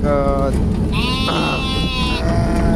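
Kathiawari goats bleat in a goat-trading setting, with a short call followed by a longer, wavering bleat over steady background noise and nearby talk.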